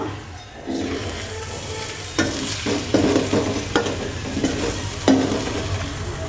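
Scrambled egg fry cooking in oil while a spatula stirs it: continuous close sizzle with repeated scraping and tapping strokes against the pan at an uneven rhythm, no speech.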